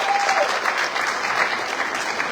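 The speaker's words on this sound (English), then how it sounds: "Give Carolyn a big round of applause" An audience at a county candidate forum gives a steady round of applause, dense clapping throughout, with a faint voice briefly audible underneath at the start.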